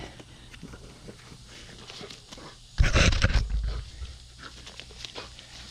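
A dog pants close by in a brief, loud burst of breathing midway through, set against a quiet background with faint shuffling.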